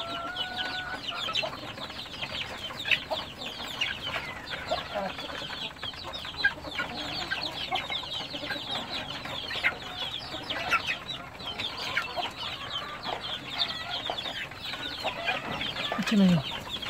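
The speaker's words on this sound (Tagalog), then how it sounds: "Ayan po mga manok." Chickens clucking and chattering in a busy, continuous farmyard chorus, moderately close, with scattered calls overlapping one another.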